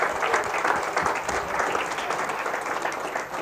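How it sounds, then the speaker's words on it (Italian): Audience applause at a conference event, a dense, steady wash of clapping filling the room for a few seconds without speech. "Un applauso a tutti voi."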